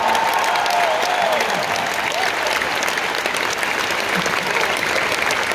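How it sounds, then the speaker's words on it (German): A large arena audience at a comedy show in Mannheim's SAP Arena applauds, a dense, even wash of clapping that stays loud and continuous throughout with faint crowd murmur underneath. "Entweder ihr klatscht alle oder gar nicht."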